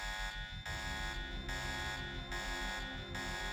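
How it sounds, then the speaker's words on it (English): An alarm blares in the Deus Ex video game, a harsh buzzing tone pulsing in a regular on-off rhythm of roughly three beats over a constant background hum. "Nobody's just responding to the alarm, which is good, I guess."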